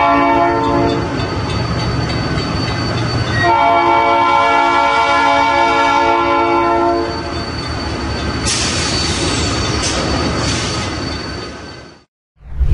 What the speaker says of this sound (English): You can add whistles and sounds to your locos and make them really come to life.